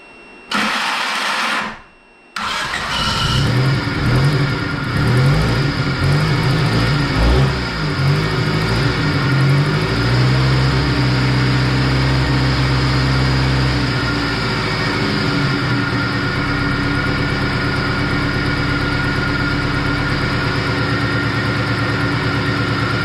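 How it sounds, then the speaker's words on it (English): A 1990 EF car with a freshly replaced head gasket cranks briefly, catches, and settles into a steady, loud idle with a deep rumble that carries on for the rest of the stretch. "So we're gonna go ahead and try to fire it up."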